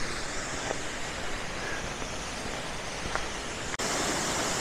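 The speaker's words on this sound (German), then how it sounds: "So, Wasserfall erreicht." A waterfall reached on a hiking path during a spring SUV roof-tent camping trip, heard as a steady, broad, hissing roar of falling water that fills the whole clip. A brief dropout occurs near the end.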